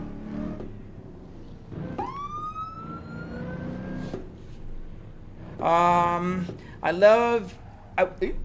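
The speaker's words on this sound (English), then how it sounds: "Can I just lower the siren a little bit?" A driving emergency vehicle's siren sweeps upward and holds a wail, then breaks into rapid rising yelps, loud over a low engine rumble.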